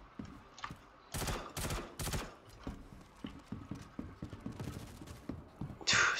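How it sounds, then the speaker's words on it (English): Several sharp gunshots in a Star Citizen first-person shooter, a quick cluster of loud cracks followed by fainter scattered clicks and thuds, with another burst at the very end. "Someone's shooting at me, I think."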